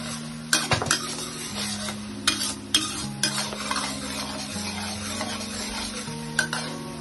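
Onion and garlic sauté in a pan with a soft steady sizzle, broken by a handful of sharp metallic scrapes and taps of a utensil stirring against the pan, close and moderately quiet.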